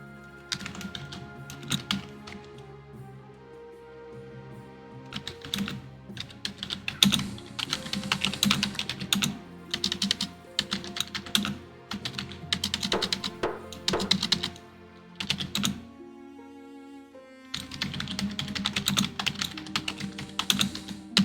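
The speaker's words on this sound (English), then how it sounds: "I'm typing a message." Rapid, uneven keystrokes on a computer keyboard while a message is typed, with steady game music and sound effects playing underneath throughout.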